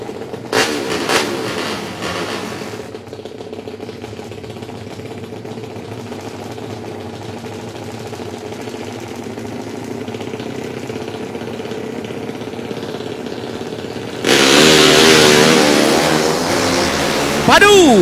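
150cc four-stroke drag racing motorcycles on a drag strip in Terengganu, a brief engine burst, then a distant sustained engine drone under a commentator's voice, ending in a loud close revving roar.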